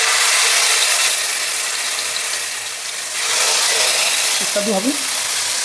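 Chicken legs fry in hot refined oil and ghee, a loud dense crackling sizzle filling the whole clip with a slight dip midway, while someone speaks briefly near the end.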